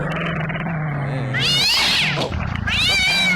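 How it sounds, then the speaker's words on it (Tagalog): A cat meows loudly twice, long drawn-out cries rising and falling in pitch, close by over a steady low background hum. "Kasamang pusa"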